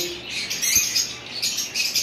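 Orange-head opaline lovebirds at a bird market, high bright chirps and squeaky calls from several birds close by, overlapping in a busy chatter over a low background hum.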